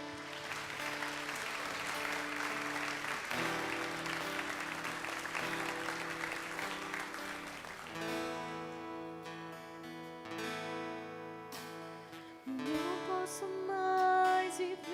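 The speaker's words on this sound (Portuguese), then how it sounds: "Você pode aplaudir o Senhor nessa manhã?" A church congregation claps during a Sunday morning service while instrumental worship music with sustained keyboard chords plays, the clapping a soft wash that gives way to music growing louder toward the end.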